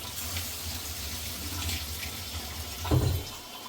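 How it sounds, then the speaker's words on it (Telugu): A glass of water splashes and pours steadily into a cooking pot of gongura mutton curry, with a brief louder gush near the end, fairly close and with no talking. "ఒక గ్లాస్ నీళ్ళు వేయాలి"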